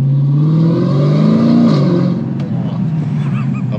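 A 2022 Dodge Challenger Hellcat Redeye with an 808 PS engine accelerating at partial throttle, a loud close engine note rising in pitch, then easing off, with voices in the cabin.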